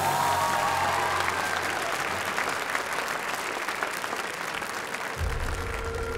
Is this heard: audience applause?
yes